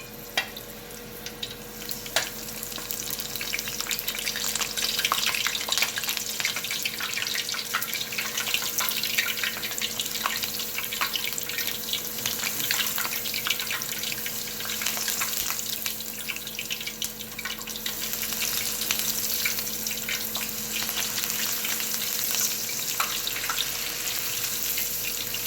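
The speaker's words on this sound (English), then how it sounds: "So I'm gonna go ahead and fry some green chilies as well." Green chilies fry in hot oil for dal vada (mung dal pakora), giving a steady, close bubbling sizzle that holds evenly throughout with no talking.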